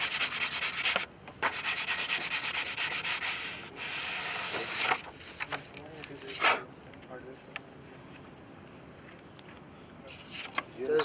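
Sandpaper rubbed across a wooden tree-ring sample in close, loud, repeated scratchy strokes, with a few short pauses between bursts and quieter rubbing toward the end.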